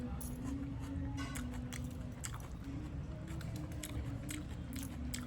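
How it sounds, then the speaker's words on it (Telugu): Someone eats curd rice with onion and mango pickle close up, with continuous wet chewing and crunchy bites throughout, no talking. "నేను తింటున్నానండి. ఇదిగోండి పెరుగన్నం, ఉల్లిపాయ, అందులో కొంచెం అయితే ఆవకాయ పచ్చడి తీసుకున్నాను."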